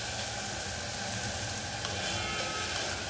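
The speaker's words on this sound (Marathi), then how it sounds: "2 मिनिटं ह्याला पण परतायचं फक्त" Potatoes sauté in a hot pan on a gas stove, giving a continuous dense sizzle with a bright crackle that holds steady and close, with no voices.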